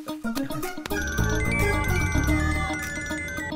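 A mobile phone ringtone plays as a bright, steady melodic ring over a dense bed of dramatic film music, fairly loud and continuous throughout.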